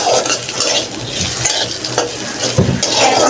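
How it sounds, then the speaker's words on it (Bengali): Ingredients for chowmein fry lightly in a pan, making a loud, continuous close sizzle with stirring scrapes and occasional utensil clatter. "সবকিছু হালকা ফ্রাই করে করে নামিয়ে তারপর রান্না করবে"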